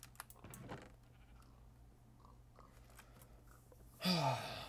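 A sheep in the video game Minecraft lets out a single loud, close bleat near the end, following a quiet stretch of soft clicks and faint taps.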